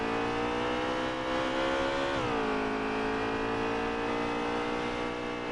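A Toyota Camry race car in NASCAR Heat 3 accelerates out of the pits, its engine note holding high, then dropping at a gear shift and climbing again in a steady loud drone.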